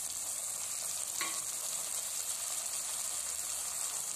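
Moong dal frying in a pan for an Assamese titaphul khar dish, giving a steady, close sizzle throughout with a single brief clink of stirring partway in.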